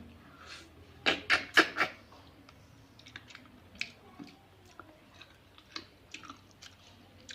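Close, wet chewing and biting on a small fish head, a quick cluster of crunchy bites followed by softer, scattered chewing sounds in a quiet room.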